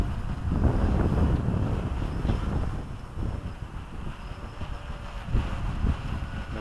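Strong wind buffets a flying WLToys V303 Seeker quadcopter drone carrying a RunCam FPV camera, a loud, steady rumbling roar that surges and dips throughout.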